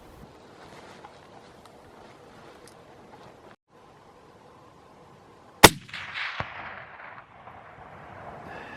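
A single sharp, loud rifle shot at a chamois buck cracks out of quiet mountain wind, followed by a few seconds of rolling echo and rustling.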